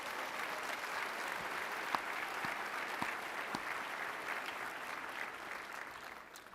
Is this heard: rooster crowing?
no